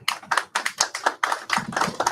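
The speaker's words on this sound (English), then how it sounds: "your 3 supporters just clap for you" A few people clap together in short, uneven bursts, close by and fairly loud with no talking.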